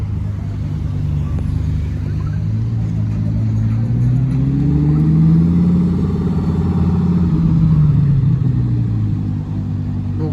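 A Lamborghini's engine drones close by and climbs in pitch as it accelerates, swelling and easing twice over about ten seconds, with faint talk in the background.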